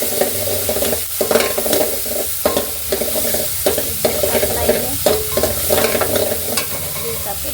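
Pasta is stirred in a pot, a spoon scraping and clacking in an irregular rhythm over a constant bubbling hiss, close and fairly loud throughout.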